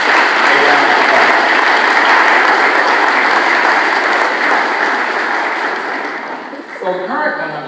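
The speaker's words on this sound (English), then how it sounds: "So would you give those beautiful Collegiate women a round of applause?" Loud, sustained applause from a large crowd, a dense wash of clapping that gradually tapers off toward the end.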